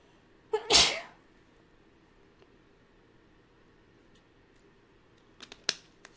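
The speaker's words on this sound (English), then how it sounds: "I have to sneeze." A single sharp, loud sneeze bursts out close by, followed by quiet with a few faint clicks near the end.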